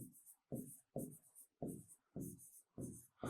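Handwriting strokes on paper during a lesson, six short scratchy bursts in a quick regular rhythm with brief pauses between, close and quiet.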